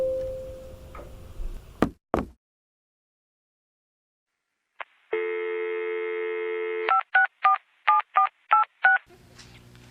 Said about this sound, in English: I'm gonna get to the phone, and I'm gonna make a call